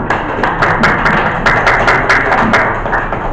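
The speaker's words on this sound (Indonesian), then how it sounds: "Ya, tepuk tangan dulu buat yang sudah." Students in a classroom clap together, a brisk burst of close, loud hand claps with a slightly uneven rhythm that runs for a few seconds.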